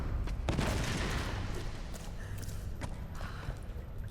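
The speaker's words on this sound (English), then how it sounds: "Random explosion" An explosion goes off in the video game Tomb Raider, a loud, broad rumbling blast that fades slowly into crackling debris and ambient noise.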